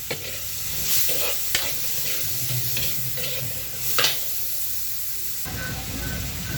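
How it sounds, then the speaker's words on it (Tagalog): Tomatoes hit hot oil in a frying pan while sautéing bottle gourd with chicken, giving a loud, steady sizzle and hiss with brief stirring clatters, no talking. "Kaya ihulog na natin ang kamatis."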